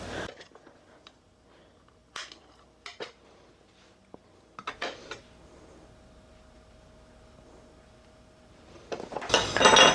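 Boiled eggs being cut in half and their yolks removed in a kitchen, with sparse, light clicks and taps of a knife and utensils on a plate, ending in a louder burst of clatter.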